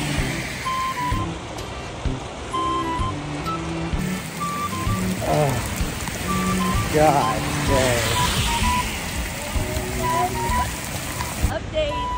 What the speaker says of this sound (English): it's not raining as hard anymore. But it is still raining.